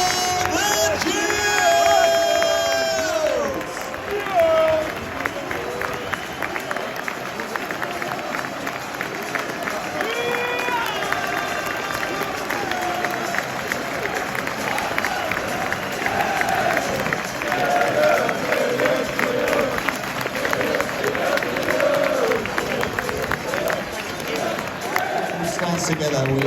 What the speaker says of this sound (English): They're cheering for the Gills!